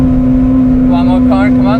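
A Honda Civic EP3 Type R on the Nürburgring holds a loud, steady high-rev engine tone from inside the car, with a voice briefly speaking over it.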